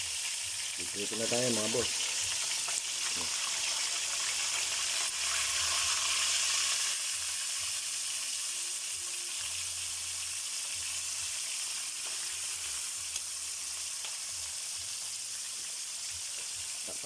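Squash (kalabasa) sautés in a pan for a Filipino vegetable dish with a steady, moderately loud sizzle that runs throughout, while someone speaks briefly near the start.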